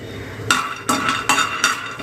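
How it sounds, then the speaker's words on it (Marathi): Peanuts being roasted and stirred in a pan, giving rhythmic scraping and rattling strokes about every third of a second, close and moderately loud with no talk. "इथे मी थोडेसे शेंगदाणे घेतले ते चांगले भाजून घेते"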